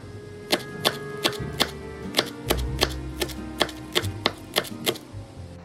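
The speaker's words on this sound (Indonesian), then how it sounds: "Lalu berikutnya daun bawang juga diiris kecil-kecil, tipis-tipis, dan juga batang seledri." Knife chopping spring onion and celery stalks on a board, a steady series of sharp, close taps at an even rhythm, about a dozen strikes.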